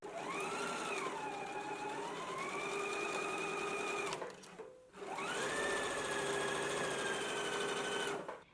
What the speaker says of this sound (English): Let's go ahead and stitch it now.